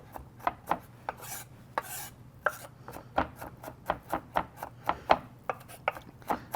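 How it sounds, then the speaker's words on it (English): A knife chops garlic on a cutting board in quick, crisp, evenly spaced taps, with a few scraping strokes mixed in. The sound is close and fairly quiet. "I'm taking my knife and I'm kind of using it to scrape all of the garlic into a bunch so I can just keep chopping it down"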